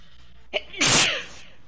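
A single loud, close sneeze from a person during a PUBG gaming session, a brief sharp intake followed by an explosive burst, with no talk around it.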